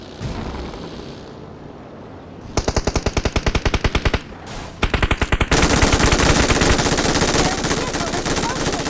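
Rapid bursts of machine gun fire in PUBG Mobile, rattling in short volleys before a longer sustained stream, loud and close.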